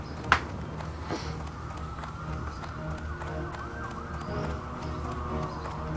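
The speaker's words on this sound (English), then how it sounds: "There is a siren going off in the background." An emergency siren wails from a highway close by, a steady rising-and-falling tone heard at moderate distance over constant traffic rumble, with a sharp knock near the start.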